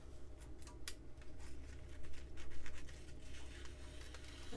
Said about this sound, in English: I'm going to cut it down.